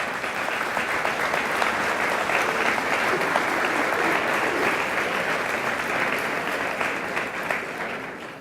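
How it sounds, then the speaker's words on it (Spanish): Sustained, dense audience applause fills the hall steadily throughout, loud and even, at a talk on schools and children. "Cuidado a aplaudir"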